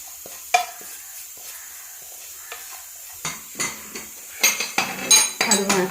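A utensil scrapes and clinks against a hot pan while stirring roasted spices and coconut, in uneven strokes, soft at first and then quicker and louder, with faint sizzling underneath.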